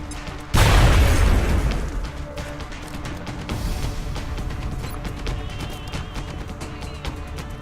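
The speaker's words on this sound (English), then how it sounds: "we'll just grenade them all" Grenade explodes in the video game XCOM with a sudden heavy boom and a crackling, decaying rumble, followed by lingering debris and ambient game sounds.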